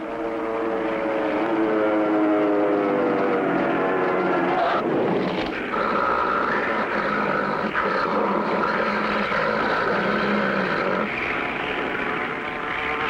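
Cartoon crop duster plane diving, a loud continuous propeller engine drone whose pitch slides downward midway, then steadies into a sustained roar with a raised whine, alone without talk.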